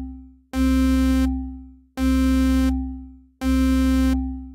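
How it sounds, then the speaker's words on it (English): A synthesizer sawtooth oscillator with a single voice sounds three identical bright, buzzy held notes, each starting abruptly and fading slightly, separated by short gaps, alone and loud. "in the first oscillator we'll have a sawtooth waveform with a single voice. So it sounds like this."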